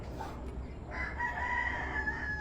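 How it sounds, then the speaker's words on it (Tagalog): A rooster crows once, a drawn-out call over a low background rumble, fairly close and clear. "May manok."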